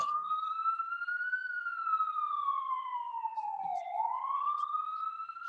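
A wailing siren sounds continuously, its pitch slowly rising and falling in a long sweep, steady and moderately loud as it passes outside.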